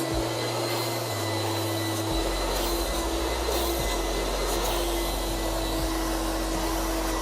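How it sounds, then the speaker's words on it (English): A vacuum cleaner runs steadily throughout while cleaning sofa pillows, its loud, constant motor whine close and continuous with slight shifts in pitch as the nozzle moves, and no talking. "Vacuum all the pillows."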